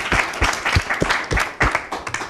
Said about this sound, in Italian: Un applauso anche per loro.